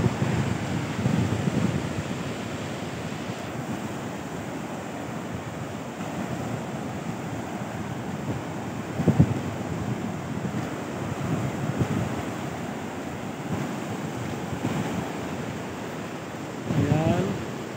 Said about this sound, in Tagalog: yan ang dito po sa baybayin ng Malapingan